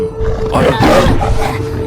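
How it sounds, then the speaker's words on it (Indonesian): A white tiger roaring in the DreadOut 2 horror video game, a loud, rough sustained roar across nearly two seconds over a steady background hum, with no voices. "Ada harimau ya, macan bodasnya ternyata di gang ini"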